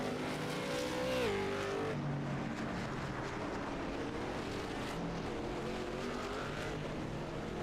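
Late model race cars practice at North Wilkesboro, several engines roaring together in a steady, loud drone, with one car's pitch sweeping as it passes and a constant crowd of motor noise throughout.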